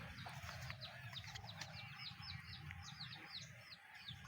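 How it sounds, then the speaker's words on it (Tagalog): Birds chirp repeatedly in short quick tweets near papaya trees outdoors, a steady run of calls over a low rumbling background hum. "At ayan dito, may lumipad na ibon."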